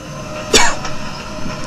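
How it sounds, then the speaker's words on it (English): A single sharp cough bursts out close by, followed by faint room noise and small rustles. "It makes me cough."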